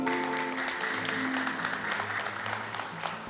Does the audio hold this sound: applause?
yes